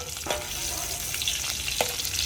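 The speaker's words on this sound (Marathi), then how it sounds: "लसूण टाकलं आहे आपण मस्त की आता आपण बघा मिक्स करू" Garlic sizzles in a pan while a spoon stirs it, making a soft, steady frying hiss broken by two distinct scraping knocks, with no one talking.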